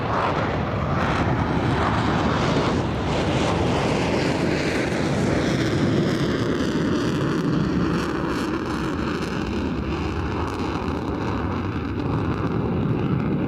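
Panavia Tornado F3 air defence jet roaring through a long takeoff run at the Farnborough airshow, a loud continuous broadband engine blast with a slowly shifting pitch that holds steady for the whole stretch, with no voices.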